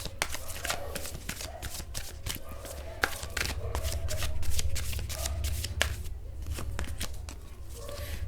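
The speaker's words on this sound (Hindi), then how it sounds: "शुरू करते हैं कार्ड्स की शफलिंग के साथ।" Tarot cards being shuffled by hand, a steady run of crisp riffling and slapping bursts repeating close up, with faint background murmur beneath.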